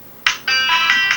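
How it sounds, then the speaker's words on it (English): A telephone ringtone plays loudly and close, a short electronic tone burst followed by a sustained, pulsing melodic ring, heard alone without talk. "Ringtone."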